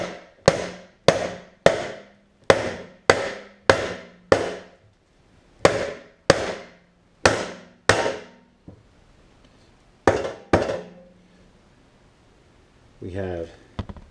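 A big hammer straightening thick body metal on a Dodge Challenger SXT, a rhythmic series of loud ringing metallic blows, pausing and resuming, then a short burst of voice at the end.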